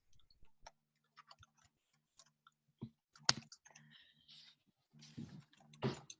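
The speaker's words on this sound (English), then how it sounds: "right now typing" Someone types on a computer keyboard during an online webinar: sparse, faint clicks and taps arrive in short irregular bursts, with a few brief louder strikes, in an otherwise quiet room.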